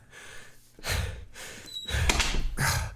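A door closes with a heavy thud and then its battery-powered electronic lock engages, amid hurried breathing and rustling in a dark, cold building during a blackout.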